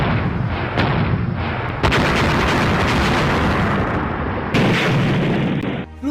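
Heavy booming blasts roll one after another, loud and continuous, like cannons firing in a sustained barrage with no voices.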